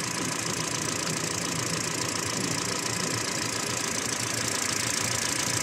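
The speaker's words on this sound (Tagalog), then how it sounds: "So yan po, umaandar yung makina." A car engine idles steadily and loudly nearby, a constant mechanical drone with a light knocking rattle and no talking; its temperature gauge rises past half.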